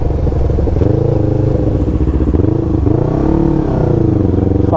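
A Yamaha MT-03 motorcycle, original except for an aftermarket exhaust, idles loudly up close, then revs up and settles back, its rumble rising and falling with a rattly exhaust tone.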